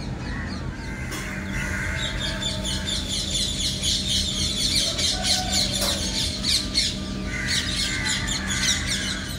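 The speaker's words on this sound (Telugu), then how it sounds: "ఆ బర్డ్ చేపింగ్ సౌండ్స్ తో ఒక పక్క సన్ రైజ్ సూపర్ ఉండిందనమాట." Crows squawk and caw repeatedly at an early-morning sunrise, loud and close, with other birds chirping and a steady outdoor background hum underneath, no talking.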